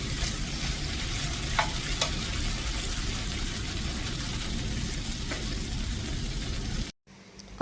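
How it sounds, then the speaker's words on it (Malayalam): Green plantain thoran being sautéed with ghee in a pan gives a steady, fairly loud sizzle with a few light stirring scrapes, then cuts out abruptly near the end. "എന്നിട്ട് നന്നായിട്ടൊന്ന് വഴറ്റി വെക്കാം."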